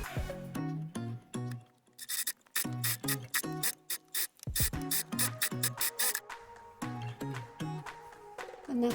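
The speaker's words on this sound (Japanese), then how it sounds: "それでは縫い代1センチで縫っていきます" Sewing machine stitching fabric for a lined, shopping-bag-style eco bag with a 1 cm seam allowance, running in short bursts of rapid mechanical clatter with brief pauses between them, close and loud, with no talking.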